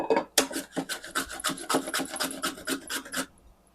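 Fennel bulb shaved into very thin slices on a mandoline, a quick series of about a dozen close, crisp rasping strokes in an uneven rhythm.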